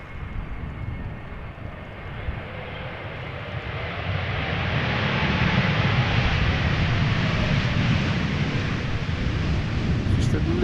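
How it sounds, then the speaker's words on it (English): A Vueling Airbus A320neo airliner lands at Amsterdam Schiphol, a steady broadband jet roar that swells midway as reverse thrust is applied and holds loud to the end, with wind buffeting the microphone. "Vueling A320 Neo arriving from Barcelona, flight 8309, now touching down"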